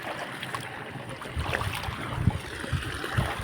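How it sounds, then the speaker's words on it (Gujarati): Water flowing out of a village pond and pouring into a pit outdoors: a continuous rushing wash with a few low splashing thumps, moderately close, with no talking. "અહીંયા જો પાણીનો અવાજ કેવો સારો આવે છે ને કેવું સારું પાણી જાય છે"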